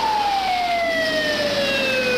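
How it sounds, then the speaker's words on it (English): An ambulance siren wails in a smooth tone that slowly sweeps downward, steady and moderately loud over a faint background hiss of road noise, with no talking. "Within 7 minutes, the first of 2 ambulance crews arrived on the scene to begin treating Ross"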